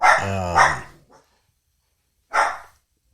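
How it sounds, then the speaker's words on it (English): A dog barks in a couple of short, loud bursts separated by a brief pause, fairly close. "sorry, dogs are barking"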